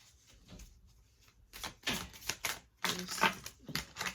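A deck of tarot cards is shuffled close by in quick, uneven bursts of crisp riffling and slapping, with brief quiet gaps between them.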